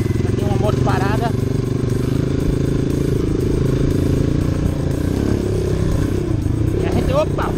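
Honda CRF 230 dirt bike ridden on an off-road training course through sandy patches and tight turns, its engine droning steadily and continuously close up, with a rider talking over it at the start and end.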